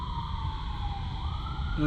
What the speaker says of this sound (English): let the sounds of the sirens and the crickets lull me